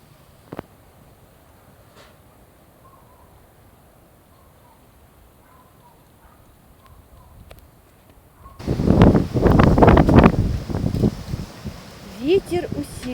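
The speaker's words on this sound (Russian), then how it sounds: "Ветер усиливается." Wind picks up in a spring garden in early May: near-stillness for several seconds, then loud gusts rush and rustle through the plants in surging waves.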